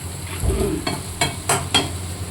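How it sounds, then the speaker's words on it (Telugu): Gongura leaves cook in hot oil in a pan while being stirred, giving a soft sizzle broken by several quick scraping strokes of the spoon, close and fairly loud. "గోంగూర ఆయిల్లో ఉడకబెట్టాలట"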